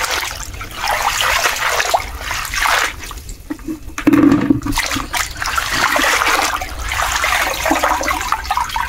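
Water spinach leaves being washed by hand in a basin of water, with continuous sloshing, trickling and splashing close up throughout, brief louder splashes midway.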